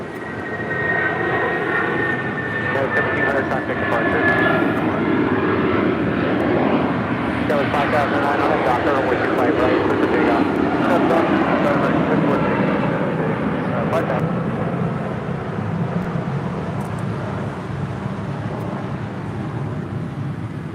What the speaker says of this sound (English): That was United Airlines flight 1700 heading to